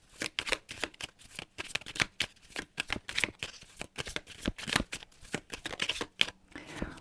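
Tarot cards being shuffled by hand in quick, papery bursts of riffles and slaps, close and fairly loud, with no talking over them.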